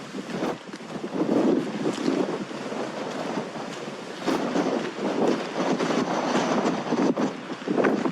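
Strong wind gusts buffet the microphone on an exposed hillside at Ilkley, roaring in uneven surges and lulls throughout with no talking.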